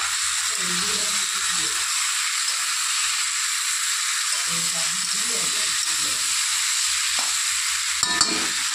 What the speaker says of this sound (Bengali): তো ঢাকনাটা খুলে আবার একটু নেড়ে চেড়ে দেবো।